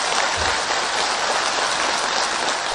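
Enthusiastic applause from meeting participants fills the whole moment: dense, steady clapping from a large crowd at constant loudness, with no voices heard.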